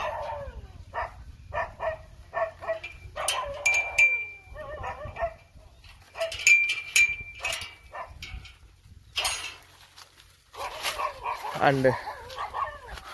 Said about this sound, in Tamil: சோ நாய் எல்லாமே குலைக்குது